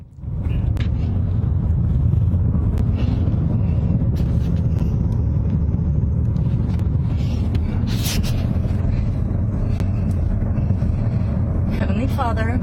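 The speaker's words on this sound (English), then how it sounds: "Video of her harrowing ride through the flames has been watched almost 4 million times on Facebook." A car drives through wildfire flames in Paradise, California, with a constant loud engine and road rumble, crackling and gusting noise, and breathy gasps from people inside.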